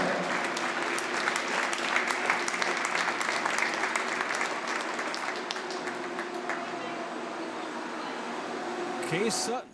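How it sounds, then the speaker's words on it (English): Applause for Kay Sutton at a high school boys varsity basketball game between the Watertown Lakers and Mitchell Marlins, steady gym-wide clapping that gradually thins, ending with a brief squeak or whistle. "Give her a round of applause."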